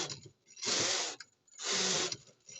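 A Singer Magic Memory knitting machine carriage is pushed across in plain rows, two long rasping, clattering sweeps separated by a short pause, close and clear with no voices.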